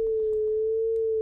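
A pure synthesized sine tone held steady at one pitch, with a mechanical vibrato wobble like a siren or a singer's vibrato. It plays alone, clean and moderately loud, for just over a second.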